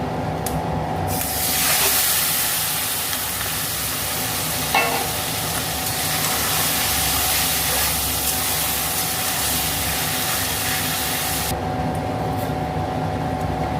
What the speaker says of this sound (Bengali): এবার আমি মাংসটা দিয়ে দেবো মাংসটা দিয়ে দেবো